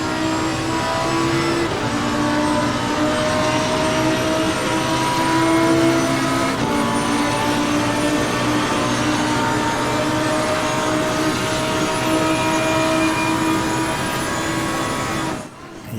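Race car engines in the Assetto Corsa Competizione racing game whine and roar continuously during an online race with a Porsche nearby, the tone shifting with gear changes and holding loud throughout.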